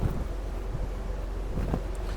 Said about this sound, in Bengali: বাতাসের গতিবেগ অনেক বেশি আজকে নর্মালির থেকে অনেক বেশি